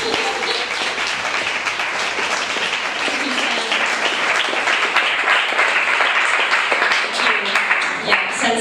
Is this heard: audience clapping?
yes